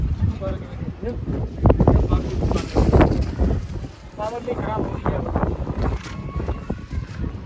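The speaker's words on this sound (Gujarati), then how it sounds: "પવન તો અત્યારે જ આવે છે જો આમ ધૂળની ડમરી ઉડવા મળી છે" Strong gusty wind roars and buffets close at hand at an outdoor site as a dust storm approaches, with rumbling low gusts rising and falling throughout.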